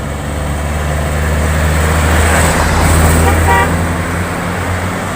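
Hino tronton heavy truck overtaking on a road, a dense rumble of diesel engine and traffic noise swelling as it passes close, with a horn toot partway through.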